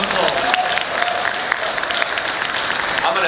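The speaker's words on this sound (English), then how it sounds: "Everybody give them a round of applause." A convention audience at a Scotland comic con claps steadily throughout, a dense crowd applause close by with some voices mixed in underneath.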